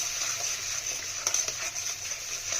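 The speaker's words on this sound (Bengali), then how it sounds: "আমাদের মশলাটা কষা হচ্ছে এখনো ভালোভাবে কষানো হয়নি" Spice paste frying (kosha) for a rohu fish and potato curry gives a soft, steady sizzle with faint crackles and occasional stirring scrapes, heard alone at low volume.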